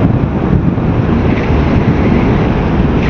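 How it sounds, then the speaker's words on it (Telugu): Strong coastal wind roars steadily and loudly into the microphone during a motorcycle ride near wind turbines on the road from Kanyakumari to Dhanushkodi, a dense, unbroken rush with no voices. "కోస్టల్ ఏరియా కదా, గాలి విపరీతంగా వస్తుంది ఇక్కడ"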